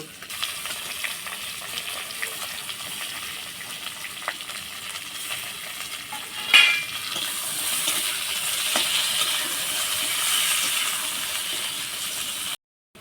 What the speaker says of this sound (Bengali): পেঁয়াজ আর পেঁপে দুটোই ভাজা হয়ে গেছে